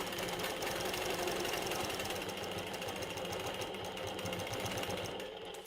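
A longarm quilting machine stitches a grid along a curved ruler, giving a rapid mechanical needle chatter that runs steadily close by, then eases off near the end, with no talking.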